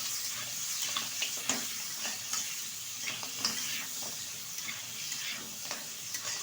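Small chopped goat leg (khashir tengri) pieces sizzle and fry in hot oil while being stirred, a steady crackling bed with scattered scraping clicks from the spoon, close and moderately quiet with no voices.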